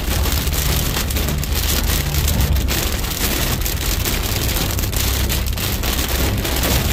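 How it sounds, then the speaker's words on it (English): Hail and rain pelt down steadily during a hail and wind storm near Baggaley, Pennsylvania, a dense, constant roar of impacts with low rumbling underneath and no voices. "Got hail down towards Baggaley."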